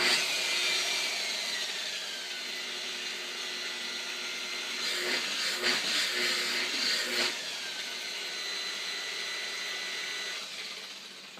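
A DeWalt DWP849X rotary polisher running at 600 RPM, a loud continuous motor whine with a steady hum that holds its pitch, briefly disturbed by rubbing contact midway, with no talk.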